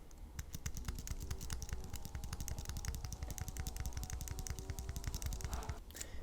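Rapid, even tapping on a computer keyboard as the I key is struck over and over, crisp close clicks in a steady rhythm with no talk.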